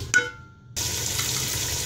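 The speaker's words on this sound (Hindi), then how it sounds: "फ्लेम अब मैंने इसके नीचे हाई कर दी है और अब मैं इसके अंदर पानी ऐड कर दूंगी" Water is poured into a hot pot of frying chana dal for khichdi, starting with a brief clink and a sharp sizzle, then giving way to a steady loud hiss and bubbling rush that continues to the end.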